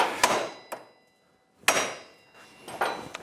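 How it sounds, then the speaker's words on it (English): Sharp dead blow hammer blows strike a castle nut on a 2007 Yamaha Grizzly 700 ATV front wheel, a few separate strikes with pauses between, each leaving a short metallic ring. "I could hit it with a direct blow hammer"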